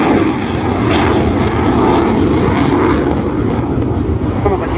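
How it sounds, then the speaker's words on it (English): A Sukhoi Su-27 fighter jet makes a slow-speed flypast at an air show with its air brake deployed, a loud, continuous roar of engines holding steady throughout. "Another great slow-speed flypast by this huge, great aircraft"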